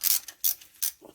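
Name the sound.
ratchet loosening brake bolts on a Yanmar YM186D tractor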